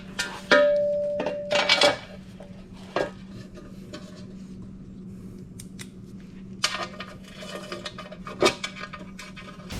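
A metal skid plate is fitted onto a Yamaha WR250R motorcycle after an oil change, with sharp metallic clanks, scrapes and taps in irregular bursts at close range against a low steady hum, with no talking.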